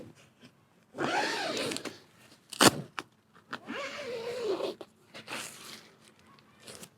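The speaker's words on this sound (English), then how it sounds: "Make sure that the zips work." Someone opens and closes a tent zipper in a few separate pulls, each a close, raspy zip with quiet pauses and faint handling sounds between strokes.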